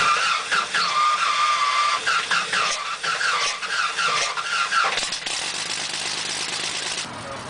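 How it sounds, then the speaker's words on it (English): A Lycoming O-435 aircraft engine starts on a test stand, a loud, close, rough churning with whining tones that surges unevenly, then settles into a steadier run. "Immediately after starting the engine, we look for oil pressure and adjust the engine RPM to around 1000."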